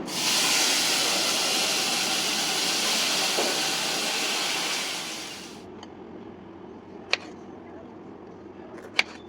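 Tomatoes dropped into a hot pan for tomato chutney, a loud steady sizzling hiss that fades after several seconds, followed by a couple of faint clinks.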